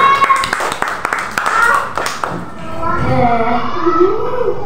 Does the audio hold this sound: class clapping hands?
yes